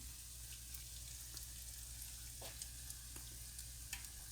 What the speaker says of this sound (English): Frying it up in some coconut oil.